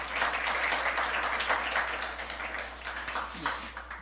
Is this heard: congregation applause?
yes